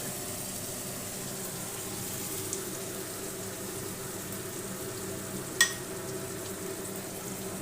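Prawns frying in a pan for a yogurt prawn curry make a constant, moderate sizzle that hardly changes, with one sharp clink partway through.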